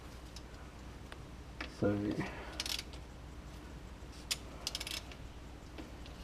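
Bolts being undone on a compound turbo setup of a Subaru, heard as close mechanical ticking and a short rattling burst of a ratchet or wrench, with brief talk alongside.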